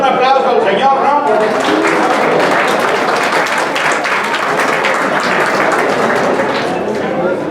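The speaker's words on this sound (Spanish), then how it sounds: "Pues le damos un aplauso al señor, ¿no?" Audience applause at a political conference in Oaxaca, sustained clapping from a crowd lasting the whole stretch at steady loudness, with voices mixed in.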